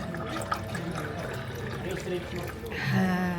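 Water runs from a tap at the Ichiran ramen restaurant in Osaka, a close, steady pour under diner chatter that swells and brightens near the end as a cup fills.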